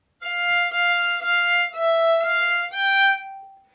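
Violin melody from Nier Replicant, bowed alone with abrupt, exaggerated bow direction changes that leave audible dips and bumps between each stroke.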